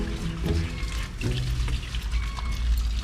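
A garden hose runs water in a steady, splashing gush that stays close and continuous throughout, with no talk over it.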